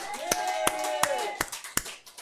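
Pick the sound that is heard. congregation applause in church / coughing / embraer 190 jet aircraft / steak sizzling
congregation applause in church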